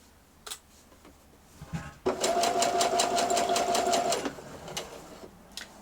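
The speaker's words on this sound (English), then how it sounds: "actually stop sewing when I'm taking my pins out so that I'm not stitching crooked" A sewing machine with a twin needle stitching a T-shirt hem runs in a steady whirring, rapid rattling burst of about two seconds, with a few handling clicks before and after.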